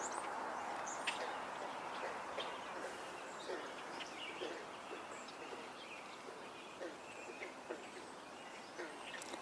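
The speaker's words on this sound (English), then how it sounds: "Hearing a gray catbird now." Faint, scattered gray catbird calls with short mewing and chirping notes over a steady outdoor hiss, occasional brief clicks, no talk.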